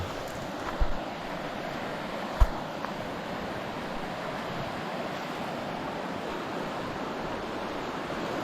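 A steady rushing flow of a Norwegian river fills the scene, broadband and constant, with a couple of brief knocks near the start and wind buffeting the microphone.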